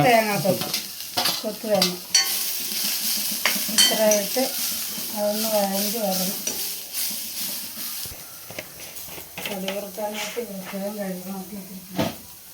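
Shallots and coconut roast in oil in a pan for a bitter gourd theeyal, giving a steady sizzle and scraping stir strokes while someone talks over the cooking for most of the clip.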